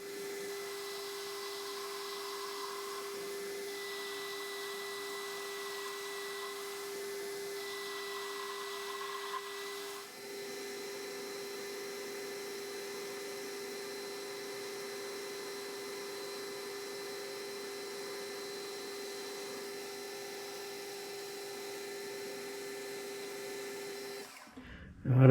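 A metal lathe cutting with a TNGG insert, heard as a steady high machine whine and hum from the spindle and cut that runs for about twenty-five seconds, shifting tone slightly midway, with a clunk at the end.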